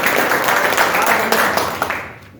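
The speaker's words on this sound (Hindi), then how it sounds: "इसके लिए जोरदार तालियों।" An audience claps in a burst of applause, a dense close wash of hands that fades out near the end.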